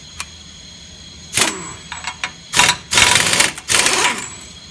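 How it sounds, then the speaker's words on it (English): A pneumatic impact wrench works on a 36 mm hub axle nut during a wheel hub replacement, firing in loud, close rattling bursts separated by short pauses. "preferably do it with an impact, or you'll be here all day wrenching it off"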